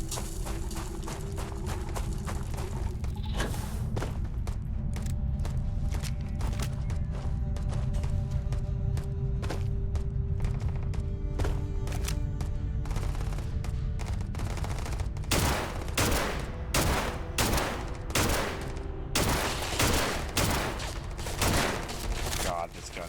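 Gunfire in the video game Starfield, a steady stream of broadband shots with dense rapid bursts toward the end, heard over game ambience and music with a voice talking at times.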